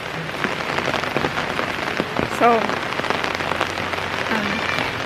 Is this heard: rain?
yes